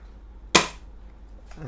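A single sharp mechanical snap from a Kar 98K Double Bell airsoft rifle's bolt loading a BB rings out once in a quiet room, followed by a faint click.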